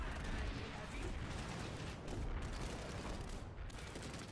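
Dense, continuous din of gunfire and booming explosions from a PlanetSide 2 battle, with a frag grenade blast somewhere in the steady roar, fairly quiet overall with voices mixed in.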